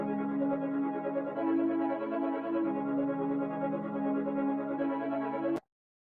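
A Serum synth pad played dry in FL Studio, with no reverb or filtering: a steady, sustained harmonic chord holding for about five and a half seconds, then cutting off abruptly with a brief click.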